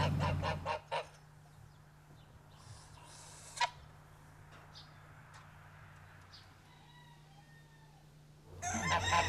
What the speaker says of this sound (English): the geese will always make a noise when somebody comes